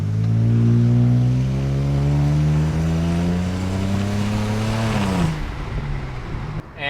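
A BMW 335i engine with a misfire hums steadily as the car drives, its pitch rising slowly then dropping off near the end, with no talking.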